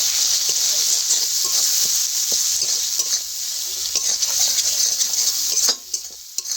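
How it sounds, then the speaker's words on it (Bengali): Spices are stirred together in a frying pan for an orange chicken dish with tomato sauce, a spoon scraping and clinking against the pan over a steady sizzle, close and continuous, with a brief louder knock near the end. "এইবারে সব মশলা একসাথে খুব ভালো করে মিশিয়ে নেব।"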